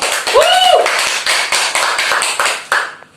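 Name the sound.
classroom applause for a student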